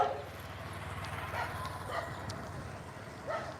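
Dogs on a street in Surin, Thailand give a few scattered barks and yips at moderate distance over low outdoor ambience.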